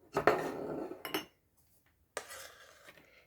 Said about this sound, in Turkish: Şimdi ben bunları bir sosluğumun içerisine aktaracağım.